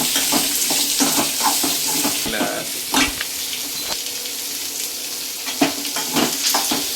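Onions sautéing for an onion chutney, with a steady broadband sizzle throughout and repeated clinks and scrapes of stirring in the pan.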